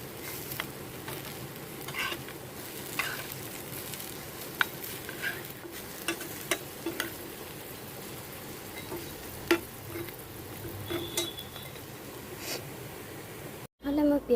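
Banana-flower fritters frying in a pan of hot oil, a steady low sizzle with scattered clicks and light stirring taps of a utensil throughout.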